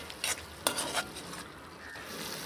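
Mutton curry is stirred in a pan: two or three quick, quiet scrapes of a spoon against the pan over a soft simmering sizzle.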